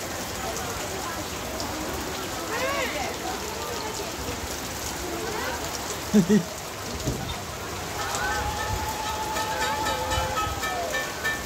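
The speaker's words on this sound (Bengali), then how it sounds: "দেখেন সকাল থেকে কি পরিমাণে একদম মুষলধারে বৃষ্টি শুরু হচ্ছে" Dense, steady rainfall hisses throughout, with faint distant voices and a few short sharp sounds poking through.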